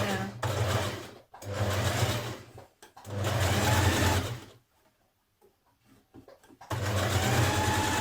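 A sewing machine stitches a facing on a Burda 6222 dress in three long, steady whirring runs separated by pauses, close up, with a brief spoken phrase in a quiet gap.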